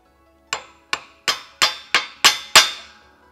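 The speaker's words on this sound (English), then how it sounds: "it's a little bit easier if you tap the bearings in just a smidge with a hammer" Hammer tapping wheel bearings into a front hub: seven sharp metallic strikes in a steady, slightly quickening rhythm, each ringing briefly, close and loud with no talk.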